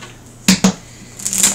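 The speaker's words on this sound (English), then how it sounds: "And I give this a few more shuffles." Tarot cards are shuffled in a quick handful of crisp riffles and slaps, close and sharp, two distinct snaps followed by a brief flurry of card noise.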